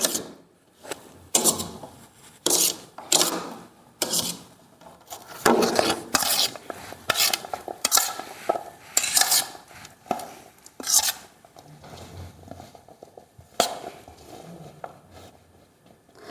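Spicy amla candy mixture with ginger, ajwain and cumin being mixed by hand in a bowl, an irregular series of close scraping, rubbing strokes and light clinks with brief pauses between.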